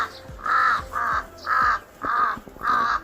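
A crow caws five times in a steady, evenly spaced series, each call loud, harsh and fairly close, with a quiet background and no talking.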